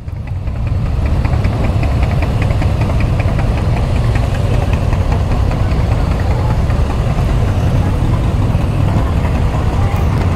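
A motorcycle engine idles steadily with a throaty exhaust note, loud and close, a constant rumble that runs without a break.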